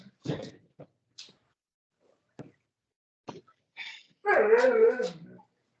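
A dog gives a few short yips and whimpers spread across the first seconds, then a louder, longer burst of barking and whining toward the end.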